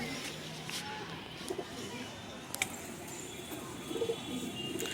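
Pigeons in a home loft give soft, intermittent coos and small rustles against a steady background, with a voice talking over them at times.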